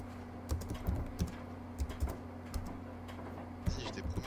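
Keys clatter on a computer keyboard during a game, with irregular close-up clicks and taps over a steady low electrical hum.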